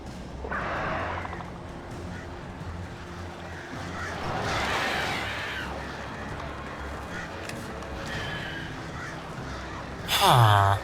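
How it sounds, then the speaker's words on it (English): Crows in the game Alan Wake Remastered caw in rough, raspy bursts, several calls across the stretch with a louder flurry near the end, mixed with game ambience and speech. "These birds are weird."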